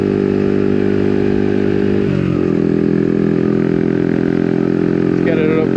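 A Yamaha XSR 125 motorcycle engine drones loud and close while riding on a road, its pitch dipping briefly before climbing steadily as it accelerates toward 40 mph.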